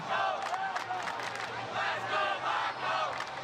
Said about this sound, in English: Wisconsin crowd chanting